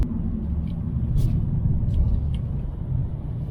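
Steady low road rumble and engine drone from inside a Mercedes-Benz CLA on a highway near Busan, cruise control holding 60 km/h, constant and muffled, with faint brief squeaks above it.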